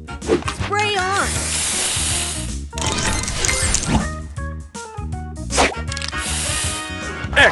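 Spray booster effect in the Match Masters mobile match-three game: bursts of hissing, spraying noise with clinks and chimes, set over busy game music with an announcer voice calling out.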